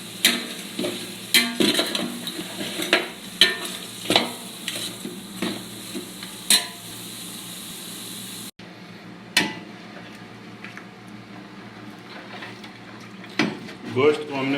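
Camel meat frying and being stirred in a pot, with repeated scraping and clanking of a utensil against the metal over a steady sizzle, which thins out partway through before a few more stirs.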